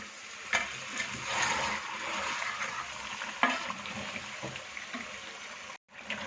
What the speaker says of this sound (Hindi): इसमें आधा कप पानी शामिल करेंगे और इसे अच्छी तरह से भून लेंगे।